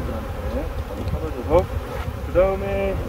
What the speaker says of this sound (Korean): 아이고 꿀벌들한테 미안하네.